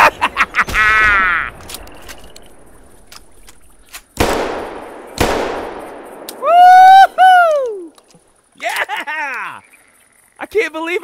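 16-gauge shotgun shots fired while bird hunting outdoors, two sharp loud cracks a second apart with ringing decay, amid bird calls and brief talk from the hunters.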